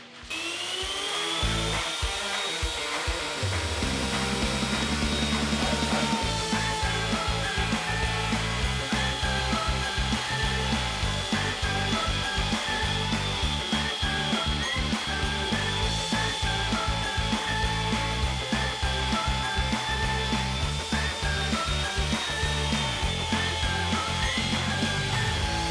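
A router cutting a test circle in wood using a circle cutting jig, a loud steady high-pitched motor whine with chattering cutting noise, continuous and close throughout.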